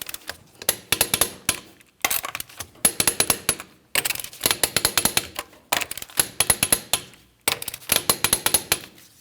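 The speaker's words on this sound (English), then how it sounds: "Let's go ahead and torque these to that 100 foot-pounds." Impact wrench torquing lug nuts on a 2007-2014 Ford Edge wheel with the vehicle resting on the ground: five loud bursts of rapid hammering rattles, each about two seconds long, separated by brief pauses, close up.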